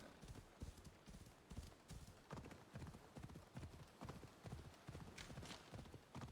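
A horse gallops in Assassin's Creed Odyssey, its hooves beating a quick, steady clip-clop rhythm on the ground, fairly quiet but continuous, with no speech over it.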